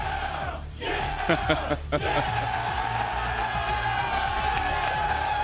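Tarleton State football players and fans celebrating a first Division I FCS playoff win, a loud roaring crowd with shouts, whoops and chanting, continuous and close.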